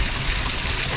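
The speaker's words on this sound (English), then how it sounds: "That's the waterfall." A waterfall pours in a steady, dense rush of flowing water, loud and continuous with no voices over it.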